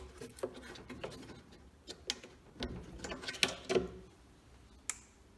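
Torx screws are worked loose to free the battery box bracket on a BMW 530e high-voltage battery pack, with faint, sporadic ratcheting clicks and metallic taps close by at low level.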